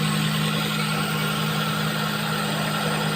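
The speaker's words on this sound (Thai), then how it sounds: "เครื่องยนต์วางใหม่เป็นเครื่อง SR 20ของนิสสันนะครับ" A Nissan SR20 engine fitted in a 1995 Saab 900S idles steadily with a constant low hum and a faint higher whine, unchanging throughout, with no voices.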